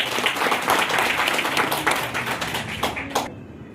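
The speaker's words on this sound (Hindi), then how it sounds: "मंगल भाई, ताली बजते रहे" An audience at a community event applauds, dense close clapping that thins out and stops near the end.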